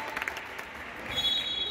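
A football crowd at a youth match applauds a player's substitution, a short, moderate patter of clapping heard from some distance, swelling slightly near the end.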